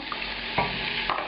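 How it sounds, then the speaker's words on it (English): Pineapple going into a sizzling Thai duck curry with duck leg and thigh in a pan, a steady close sizzle with a couple of soft scraping stirs. "I'm going to add the pineapple."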